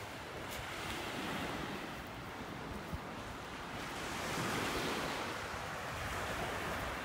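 Ocean waves break and wash steadily on a beach in North Naples, Florida after storms, a continuous loud surf roar swelling midway, with wind buffeting the microphone and no voices.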